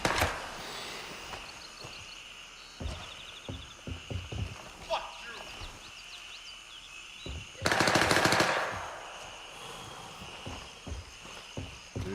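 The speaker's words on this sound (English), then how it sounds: "They're shooting, but I have no idea where they're from." Gunfire in the Grayzone Warfare game: scattered single shots crack at irregular intervals, with one loud sustained burst of automatic fire near the middle, all over a quiet ambient background with faint distant pops.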